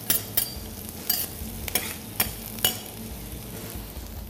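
Butter sizzles around lamb loin in a frying pan, a soft steady frying hiss broken by several sharp clicks and scrapes of a utensil at irregular intervals.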